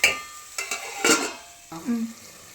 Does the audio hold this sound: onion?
yes